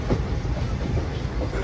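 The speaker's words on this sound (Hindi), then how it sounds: "हमारी ट्रेन जो है अब चली है, ये पूरे 1 घंटे बाद चली है" A passenger train on the Bareilly to Noida route rolls along the rails, a steady, loud, low rumble heard from inside the carriage with no clear breaks.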